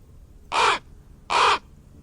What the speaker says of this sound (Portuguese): E todo corvo, segundo a sua espécie.